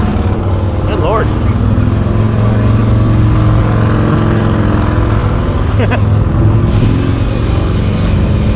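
A motorcycle engine with a stuck throttle roars loudly and steadily at the 85th Daytona Bike Week in 2026, holding a high drone. Voices talk over it, and the engine swells briefly near the end.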